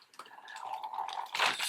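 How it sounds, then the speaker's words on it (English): Water spilling and dripping from the flameless heater of a Polish army SR 11 single meal ration: short wet splashes and trickles, close and fairly quiet, ending in a louder burst of sloshing. "spills the water."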